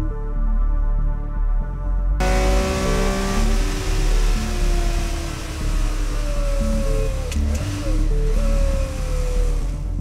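A field of race cars accelerating hard as racing resumes, loud layered engines rising and shifting pitch together with a steady roar throughout, one brief higher whine near the end.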